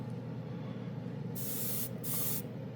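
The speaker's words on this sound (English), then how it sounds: "We wanted to see how it sprayed over" Aerosol varnish top coat sprayed over chrome paint in two bursts, a steady broadband hiss, the first longer and the second shorter, close and loud above a low background hum.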